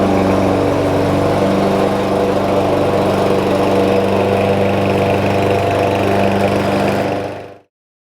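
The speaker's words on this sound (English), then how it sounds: "I'm just gonna start mowing and then we'll get started." A lawn mower runs steadily while cutting a yard, its loud, close engine drone holding an even pitch with no talking over it, then the sound drops away sharply at the very end.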